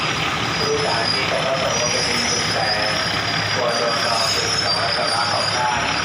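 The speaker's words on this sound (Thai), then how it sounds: "เนี่ยรถไฟที่นายอยากดูมาแล้ว" A local train rolls into Chum Saeng station in Thailand, loud and close, a steady rumbling roar with metallic wheel squeals, while people talk faintly amid the noise.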